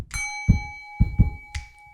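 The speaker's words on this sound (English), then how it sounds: "As I'm ringing the bell." A bell is rung several times at about half-second intervals, each strike leaving a sustained metallic ring with steady high overtones, close and fairly loud, with a low thump at each hit.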